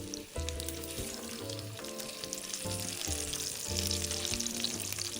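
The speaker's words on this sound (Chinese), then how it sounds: "将猪皮部分朝下，转中火继续煎个2-3分钟。" Hakka five-spice salted pork belly sizzles in hot oil in a pan, skin side down over medium heat, with a steady close crackle and spitting that runs throughout, over faint background music.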